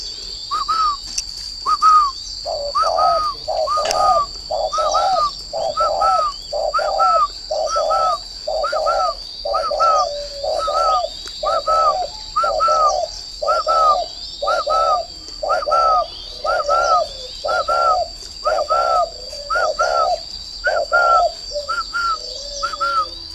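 Many doves coo together at a dove breeding farm, a steady run of repeated rhythmic coos close by, with a constant high-pitched tone running over them and no talk.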